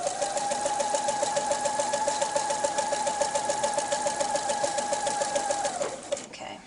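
A sewing machine stitches around a lace window panel in a fast, steady run of needle strokes, close and loud, stopping abruptly near the end.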